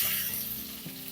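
Curry leaves, two sprigs, sizzle in hot oil for a semiya upma, a steady broadband hiss with a soft pop near the end, close and moderately loud with no voices.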